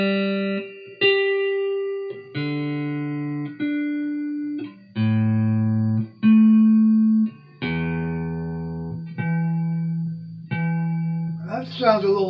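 Grote GT-150 Super Series electric guitar played clean through a tuner, a run of single sustained notes and chords each ringing about a second, evenly spaced and loud, ending with a brief busier strum.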